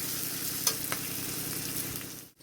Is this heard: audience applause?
no